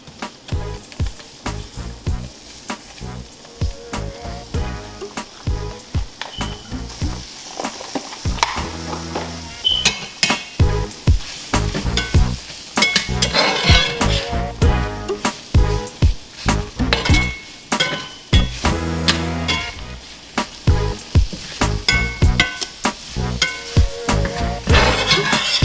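Half an onion sizzles loudly in a frying pan with gravy, a steady crackling fry running throughout with occasional clinks of a utensil against the pan and no talking.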